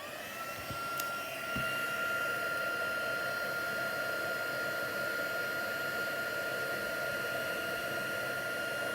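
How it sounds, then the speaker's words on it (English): A heat tool blasts hot air over embossing powder on a stamped image with a steady, even whooshing drone. It kicks in after a short moment and runs continuously, with no talking. "I'm going to use my heat tool and I'm just going to blitz the image."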